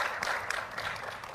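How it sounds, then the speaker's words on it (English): A room full of listeners at a speech in the USA applauds a woman in the audience, a brief dense burst of steady clapping. "Maybe we should clap for her, that lady there"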